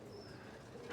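Pigeons coo softly in a brief, low burst, faint and steady, from a flock gathered where the birds have come back to roost.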